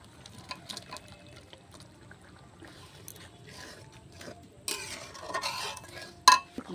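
Prawns added to a pan of boiling, sweetened gravy for prawn malai curry: soft bubbling and stirring, with scattered clinks of a utensil against the pan and a sharp metallic clatter near the end.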